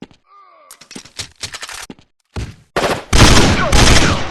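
Rifle gunfire in a video game, AKM against FAMAS: after a few quiet bird-like calls and sparse shots, loud rapid bursts of automatic fire build up and continue densely to the end.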